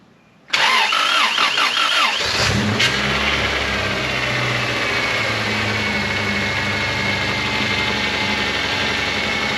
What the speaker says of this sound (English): It'll actually start this time with spark plugs.